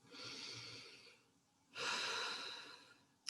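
Slow, soft breaths during a guided meditation: one long airy inhale or exhale, a pause, then a fuller second breath, close and quiet, with no speech.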